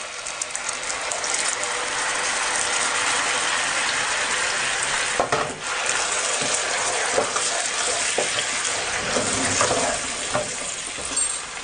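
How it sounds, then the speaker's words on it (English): Ground masala paste frying in a pan for an aloo matar paneer dish, a loud continuous sizzle with rattling, scraping stirring clicks and a brief dip midway, no voices. "Fry it for 1 to 2 minutes. Add the grounded paste."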